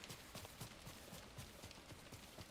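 Horse hooves clip-clopping in the video game Ghost of Tsushima: a steady, rhythmic stream of soft hoofbeats, faint and somewhat distant, with no talking.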